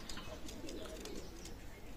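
Golalal pigeons, a running pair kept at a pigeon loft, coo softly and steadily amid noisy background hiss with no clear speech.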